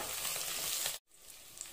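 Green chilli sautéing in hot oil for a pressure-cooker mutton biryani, a steady close sizzle that cuts out briefly near the middle, then resumes slightly softer.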